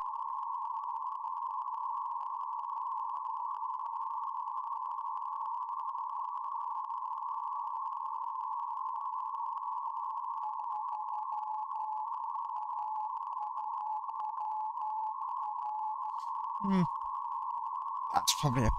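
A steady, unbroken tone picked up on an RTL-SDR v4 radio receiver, probably from a power supply, holds at one even pitch for the whole stretch, with a couple of short chirpy blips near the end.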